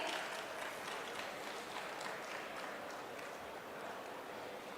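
A large crowd applauds the Union Home Minister at a public commemoration event, a steady dense wash of clapping heard from a distance, quiet and even throughout.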